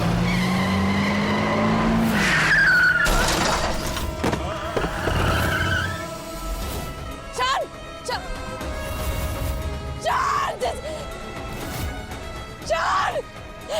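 A car brakes to a stop with a long, loud tire squeal and skid, followed by short engine and vehicle noises and background music-like tones; no clear speech.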